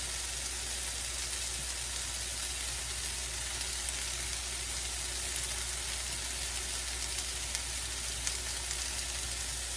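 Chicken and shrimp frying in a pan for a cauliflower jambalaya, a steady, faint crackling sizzle that runs evenly throughout with no voices.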